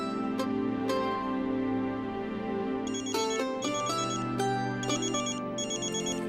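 A mobile phone ringtone plays a loud, steady electronic melody of repeating tones for several seconds, with no talking, in a home setting.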